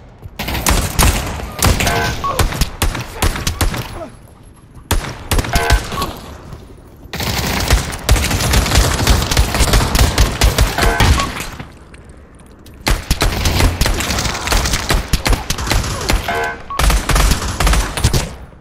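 Rapid bursts of pistol gunfire in a VR shooter game, loud and dense, coming in several sustained volleys separated by brief quieter gaps.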